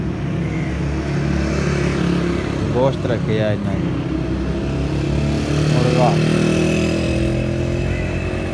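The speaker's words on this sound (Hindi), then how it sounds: "बाकी वो सामने तो मोटरसाइकिल चलते" Motorcycle engines hum steadily in the street in front of a small shop, a continuous low drone of passing traffic, with people talking close by over it.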